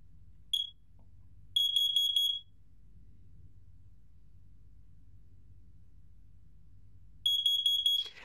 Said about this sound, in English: the noise it makes when you have an actual carbon monoxide problem.